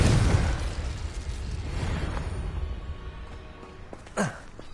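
Explosive spell blasts in Hogwarts Legacy, a loud burst opening into a rumbling, sustained roar that fades, then a short sharp whooshing pop near the end.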